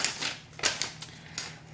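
Scissors snipping through faux suede fabric while cutting pieces for a doll vest, a series of short, crisp, fairly close cuts in an uneven rhythm, with no talking.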